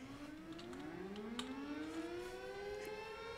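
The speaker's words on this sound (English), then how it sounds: "The town has multiple sirens, and the weather station has a siren inside of it." In Minecraft, a tornado warning siren wails, rising and falling in long sweeping tones, with several overlapping town sirens droning steadily at a distance.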